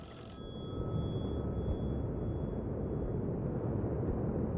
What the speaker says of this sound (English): We hear the phone.